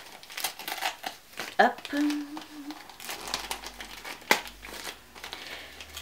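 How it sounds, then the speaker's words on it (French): Wrapping paper crinkled and torn as gifts are opened up close, bursts of crackling and rustling with a sharp rip or two, while a person talks briefly. "on va commencer à ouvrir les cadeaux. On va commencer par le plus petit."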